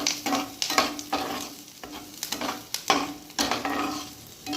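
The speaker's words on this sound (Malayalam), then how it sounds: "ഇത് കുറുകൻ നമ്മൾ ഇളക്കി കുറുകി വരണം" Ginger curry being stirred in a pan until it thickens, with repeated scraping strokes of the spoon and a steady low sizzle underneath, close and moderately quiet, with no talking.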